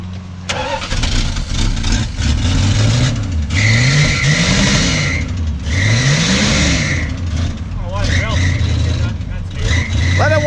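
A 1965 Plymouth Fury wagon's V8 catches and runs after starting, loud and close, with several rising and falling revs over a rough idle. Voices talk over part of it.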